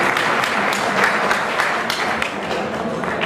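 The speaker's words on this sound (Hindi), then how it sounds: "आप लोगों के लिए एक बार जोरदार तालियां बजाएं।" A crowd at a political rally claps steadily, a dense, even burst of applause that fills the space for a few seconds at moderate loudness.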